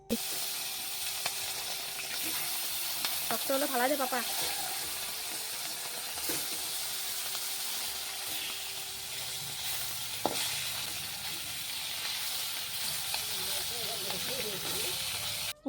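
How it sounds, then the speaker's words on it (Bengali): Fish and potato curry with thin gravy simmering in a pan, a soft, steady sizzle and hiss under occasional faint voices and a few clinks. "ঝোলও দিয়ে দিয়েছি আস্তে আস্তে ফুটছে"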